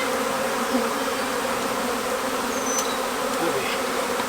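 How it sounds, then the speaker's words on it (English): A dense swarm of bees buzzing continuously, a steady droning hum that fills the space, with occasional individual bees passing closer. "Man, that's a lot of bees."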